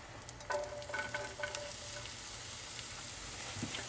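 Mushrooms and onions sizzle in melted butter in a pan, a soft, steady frying hiss with a few faint clinks of a utensil early on.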